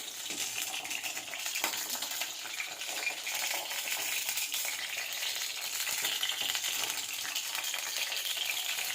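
Bitter gourd (hagal kai) fries in oil in a pan with a steady, bright crackling sizzle that stays even throughout, close up and with no voices.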